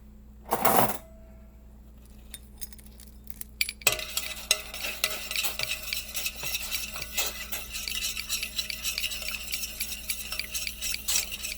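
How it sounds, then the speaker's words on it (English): A pot of honey herbal remedy for colds being stirred, beginning with a short burst of noise and a quiet pause before a dense run of clinking and scraping of a utensil against the pot that carries on to the end. "and then we're going to stir it up."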